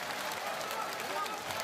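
A basketball arena crowd reacts to a missed free throw at a FIBA Olympic pre-qualifying game, a brief burst of clapping and crowd noise with a commentator talking over it.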